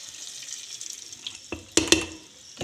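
Tempering of mustard seeds, cumin, fenugreek seeds, asafoetida and curry leaves hitting hot oil, giving a soft steady hiss with a few sharp crackling pops near the end, fairly quiet and free of speech.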